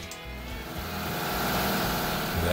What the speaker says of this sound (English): That bracket you hear in the background, that's my air compressor.